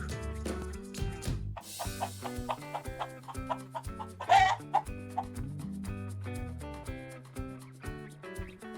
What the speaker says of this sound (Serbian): Tako je, to je kokoška.